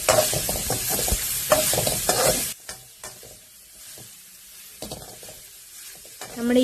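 Grated coconut is stir-fried in a pan, giving a sizzle with quick scraping and clattering stirs for a few seconds. Quieter, sparser scrapes follow before another burst of stirring at the end.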